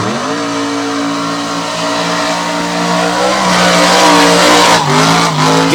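A drag racing car makes a run at a 2021 Sanford fastest-of-the-fast event, its engine roaring loud and close with a climbing pitch that surges near the end, with a hint of tire squeal.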